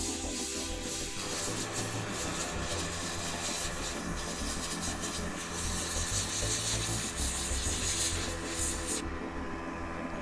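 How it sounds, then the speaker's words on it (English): An airbrush compressor running during a miniature painting session, a continuous loud buzzing, rasping hum held steady throughout and close by. "Hopefully that compressor isn't too garbagey for y'all to listen in on."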